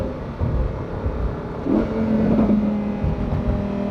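A Lamborghini Huracan STO V10 engine revs above 4,500 RPM, a close, loud rising whine that settles into a sustained high-pitched howl for a few seconds.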